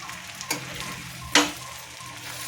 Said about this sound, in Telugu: ఈ వంక ఉల్లిపాయల్లో వంకాయ ముక్కలు వేసి తీపేయండి